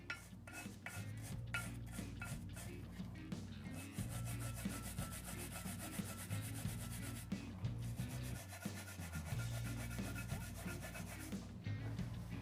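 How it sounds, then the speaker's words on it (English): A small wire brush scrubs a Jeep Wrangler steering knuckle with continuous rhythmic rasping strokes, close and steady, without any talking. "So I'm going to take a little wire brush and kind of clean this up a little bit."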